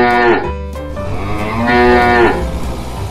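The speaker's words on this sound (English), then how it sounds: "Cow." A cow moos twice, close and loud, each call a long drawn-out low bellow that rises and falls in pitch, with a short gap between them and no talking.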